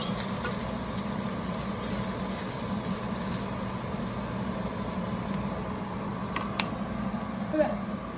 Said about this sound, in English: Now we're going to finish sauteing it.